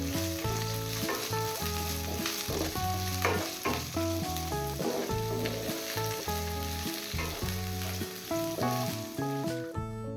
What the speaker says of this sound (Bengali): পেঁয়াজ আর গাজর 2 থেকে 3 মিনিট ভালো করে ভেজে নেব।